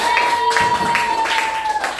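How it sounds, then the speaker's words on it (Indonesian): Students in a classroom clap for a presenting group, brief scattered claps over a sustained background tone, with a voice speaking alongside. "Kasih tepuk tangan buat kelompok kinestetik."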